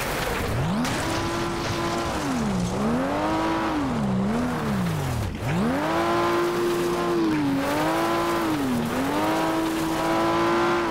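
A car engine roars loudly and continuously in the racing video game FlatOut, rising and dipping in pitch with repeated revs and gear changes, with a voice imitating the engine blended in.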